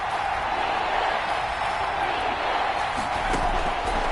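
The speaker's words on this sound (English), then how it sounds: "Crowd getting in it a bit already." Stadium crowd noise in a PS4 football video game, a dense, steady roar of many voices filling the whole clip at a constant loud level, with faint thuds within it.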